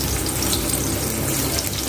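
Long-sliced onion dropped into hot oil left over from frying fish: a dense, loud, continuous sizzle close by, with no talking.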